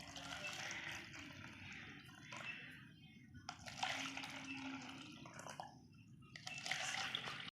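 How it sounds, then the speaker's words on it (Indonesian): Mineral water is poured into four small containers in turn, giving faint intermittent splashing and trickling bursts separated by brief quiet gaps. "yang pertama kita tuangkan air mineral ke dalam 4 buah wadah"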